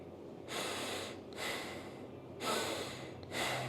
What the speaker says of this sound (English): I can just belly breathe without moving here.